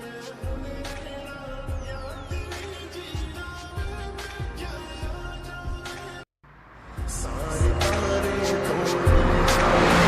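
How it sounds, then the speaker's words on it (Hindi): A car approaching with tires squealing, engine noise building steadily under music, then a louder burst after a brief gap. "तुम्हारी गाड़ी आ रही है।"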